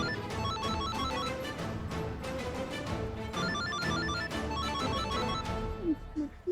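A telephone rings in repeated electronic bursts, loud and close, with a brief squeak of movement near the end and no talking over it.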